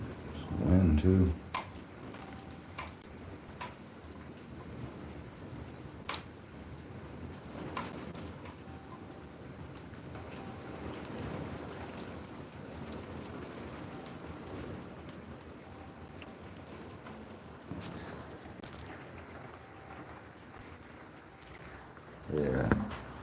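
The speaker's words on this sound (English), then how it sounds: "Just sit here and watch the rain." Steady rain falls with some wind, making a continuous hiss of drops throughout. Brief voices are heard at the start and the end.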